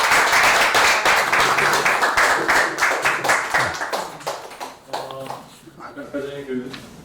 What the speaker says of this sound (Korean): 귀한 강연 진행해 주신 송종환 대사님 다시 한번 큰 박수 부탁드립니다